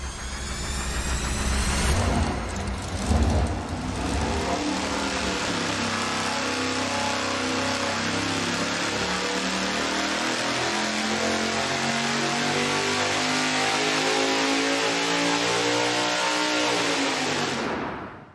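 1,000 hp Roots-blower supercharged V8 on an engine dyno, a brief crank and blip, then a loud sustained wide-open pull climbing steadily in pitch before cutting off sharply, close and alone.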